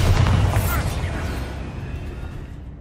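A Bombarda explosive spell blast in Hogwarts Legacy, a single loud booming burst at the start that rumbles and decays over a few seconds.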